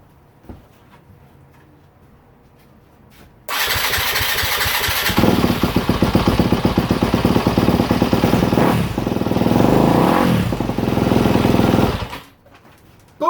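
A Yamaha YZ250F dirt bike with its choke on fires up suddenly after silence and runs loud and close, a rapid buzzing single-cylinder idle with a couple of throttle blips before it cuts off.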